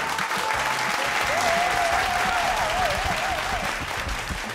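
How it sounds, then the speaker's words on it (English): Studio audience applause at a game show opening: dense, continuous clapping and cheering that holds steady throughout, with a whistle-like tone drifting through the middle. "Hold for applause."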